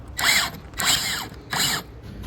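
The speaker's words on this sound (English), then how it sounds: "Then we can drive some longer screws in from the side." Power drill driving long screws through the side of a plywood frame with plywood gussets, three separate bursts of rising-and-falling motor whine, each about half a second long, close and fairly loud.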